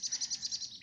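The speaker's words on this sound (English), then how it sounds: "If you can hear, there are also some birds" Outdoors on a nature walk in Germany, a bird sings a quick run of about eight high, evenly spaced chirps. The notes are clear and fairly near, then trail off at the end.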